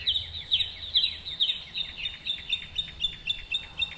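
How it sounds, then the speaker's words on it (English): A mockingbird sings loudly during a breeding bird survey, a rapid string of sharp repeated chirps and phrases close by, steady and insistent over a quiet background. "Mockingbirds are really loud."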